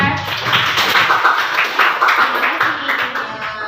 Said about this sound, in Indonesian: tepuk tangan untuk teman-teman ya